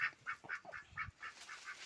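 A duck quacks in a steady, evenly spaced series of about eight calls, close and fairly clear, near hens dust-bathing in the soil.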